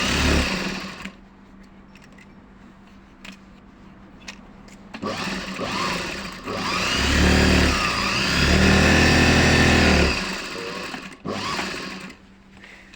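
A Juki DDL5550 industrial sewing machine runs in a few bursts while stitching very thick cloth, a close, loud whirring motor with rapid needle chatter, separated by pauses and quieter handling noises.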